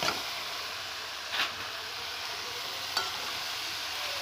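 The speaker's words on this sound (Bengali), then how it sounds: "শাকগুলো দিয়ে ভালো করে আমি নেড়ে চেড়ে নেব" Spinach being stirred into a pan of dal with salt, a steady frying sizzle with a few soft scraping stirs, close and alone with no talking.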